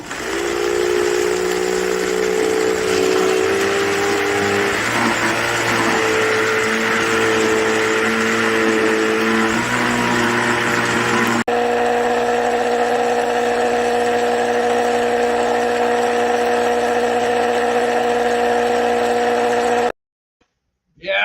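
An ice cream maker runs with a loud, steady motor drone and a whining hum like an outboard motor, shifting pitch a few times before it abruptly stops.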